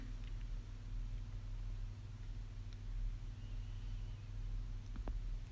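A car creeping slowly through traffic into a parking area in foggy, cold Murree gives off a steady low engine drone heard from inside the vehicle, with a few faint clicks and rattles.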